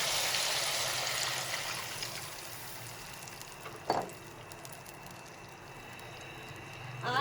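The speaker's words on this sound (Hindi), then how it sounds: "ये 1 किलो पानी है, ये डालेंगे।" A kilogram of water poured into a pot over mutton pieces for biryani, giving a steady close rushing, sizzling splash that fades slightly, with a brief clink partway through.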